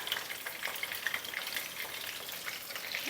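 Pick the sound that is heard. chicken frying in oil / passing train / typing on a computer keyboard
chicken frying in oil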